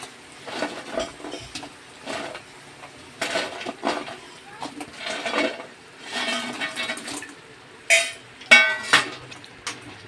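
Fried cabbage Manchurian balls are stirred into a pan, with a spoon scraping and clinking against metal in irregular bursts, a few sharper knocks standing out near the end, close and fairly clear.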